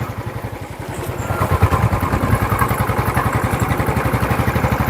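A motorcycle engine idles close by with a steady, rapid low chugging pulse that holds throughout, loud and unbroken, with no voices.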